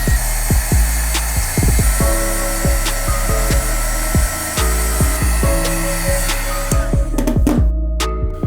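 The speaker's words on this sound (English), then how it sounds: "we're gonna grab our heat gun and remove all the little creasing all over the midsoles" A heat gun blows a steady, loud whooshing roar as it works creases out of the midsoles of Air Jordan Flint 7 sneakers, with faint clicking underneath and a brief drop near the end.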